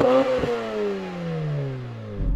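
A Mazda 1.3-litre rotary engine revs up with a buzzy, smooth note, then its pitch falls steadily as it winds down; loud and close.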